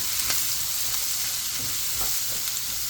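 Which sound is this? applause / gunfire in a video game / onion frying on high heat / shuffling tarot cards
onion frying on high heat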